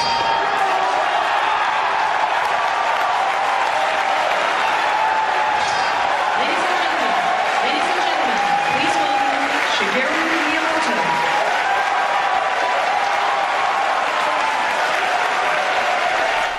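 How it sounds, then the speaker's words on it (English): An E3 audience applauds the Legend of Zelda: Twilight Princess reveal for the GameCube, a dense wash of clapping and cheering from a large crowd that runs throughout. "Other titles were also applauded by the public."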